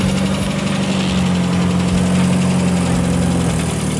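A slammed Mazda Miata idles nearby as it pulls up, a steady, loud low engine drone with a constant hum and slight vibration throughout.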